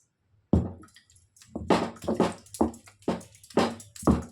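Irregular bursts of splashing, gurgling water come in quick spurts with short pauses between them, close by and fairly loud, as water drains out while making ghee at home.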